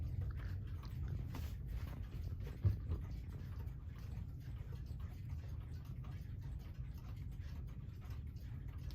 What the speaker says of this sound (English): It's an antique clock.